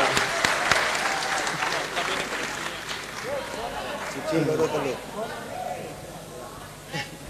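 An audience at a large Indonesian gathering about Bonek football supporters claps along, a continuous crowd applause with sharp individual claps early on and voices mixed in.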